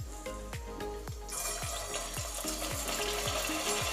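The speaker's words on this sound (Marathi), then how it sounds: "आता इथे तेल तापलं आहे आणि आता मी त्यामध्ये हे वडे सोडून घेते।" Vadas dropped into hot oil for frying, a rising sizzle and bubbling close by, with a regular series of soft thumps running through it, no talk.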